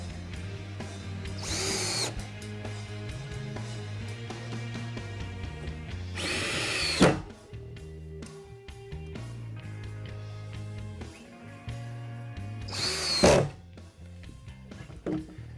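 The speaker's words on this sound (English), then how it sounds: "Just use your screws, electric screwdriver or manual screwdriver if you don't have an electric one. You just quickly screw down." An electric screwdriver drives screws into the parts of a four-color, two-station silk screen printing press. It sounds in three loud whirring bursts of a second or so, spaced several seconds apart, between quieter handling and clatter.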